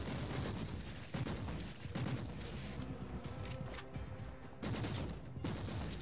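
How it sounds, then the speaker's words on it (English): Rapid automatic gunfire from an autogun or autorifle in the action game Warhammer 40K: Inquisitor - Martyr, dense sustained bursts with short pauses, loud and continuous with no voices. "for most enemies the auto gun or auto rifle is quite efficient"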